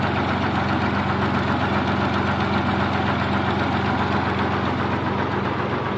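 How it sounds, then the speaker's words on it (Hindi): A Fiat 480 tractor diesel engine idles loudly and close by in a Punjab village, a steady, even knocking rumble with constant vibration throughout. "यह ट्रैक्टर स्टार्टिंग रेस च खड़ा बिल्कुल सुकून नाल"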